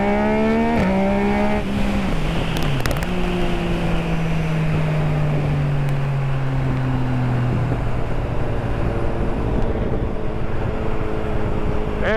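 A new Ducati motorcycle engine, loud and close, with a droning engine tone that slides smoothly downward in pitch as it revs and settles, over continuous heavy rumble.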